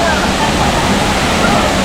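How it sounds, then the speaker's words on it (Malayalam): Loud, unbroken roar of the Dudhsagar waterfall, a thick steady wash of falling water heard up close and alone. "ഇത് വളരെ നല്ല ഭംഗിയുള്ളൊരു വാട്ടർഫോൾസാണ്"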